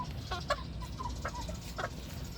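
Stag and pullet chickens give short, scattered clucks and chirps, several in two seconds, close by over a soft background hum.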